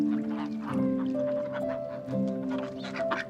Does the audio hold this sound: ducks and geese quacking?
yes